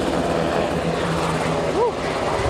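A steady U.S. Coast Guard helicopter engine drone and rotor hum fills the background during a rescue training demonstration at a harbor festival, with brief harmonic whistles and faint talk near the end.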